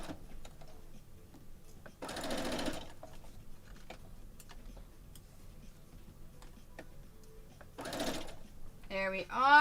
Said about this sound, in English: put it in the machine and have it ready to go. Because I said I do want to sew these rows.